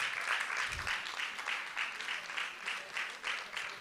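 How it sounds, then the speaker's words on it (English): A hall audience at a nursing and midwifery college event claps continuously in a steady rhythmic pattern, moderately loud and sustained throughout. "Let's continue clapping."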